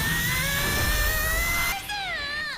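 An anime drill whines at a high, steady pitch, then drops and wavers in tone as it bites, loud and close with no talk over it.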